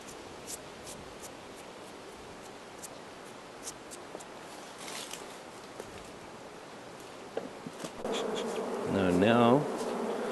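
Bees hum in an open top-bar hive during an inspection, a steady close buzzing drone with occasional rustles and handling sounds, swelling louder near the end as a bee passes near.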